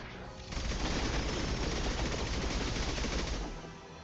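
Continuous automatic gunfire in Mass Effect 2, a loud dense rattle of rapid shots swelling in and running steadily for a few seconds before tapering off.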